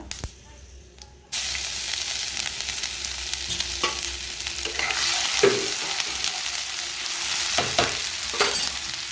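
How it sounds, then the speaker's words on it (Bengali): Cumin seeds and ginger sizzle and fry in hot oil in a wok, a steady bright crackling hiss that jumps louder after a quiet first second and continues with small pops and stirring. "কড়াতে দিয়ে দেব, ওই তেলেতেই দিয়ে দেবো একটু জিরে ফোড়ন, একটু আদা,"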